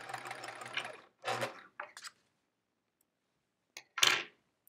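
A sewing machine stitches a quilt block with checkerboard borders in short close bursts of rapid mechanical whirring, stopping and starting with brief pauses and a few small clicks in between.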